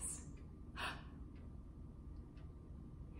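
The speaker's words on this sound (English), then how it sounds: "imagine someone has just surprised you with a cupcake and you have a gasp of surprise" A single sharp, breathy gasp of surprise, a quick inhaled intake of air through the larynx, heard close and alone with a fainter breath after it over quiet room hum.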